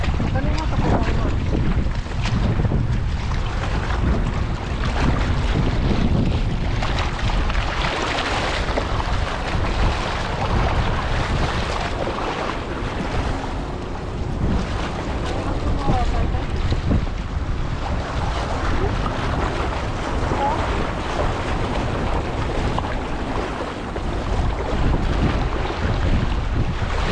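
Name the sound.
wind at sea on a fishing boat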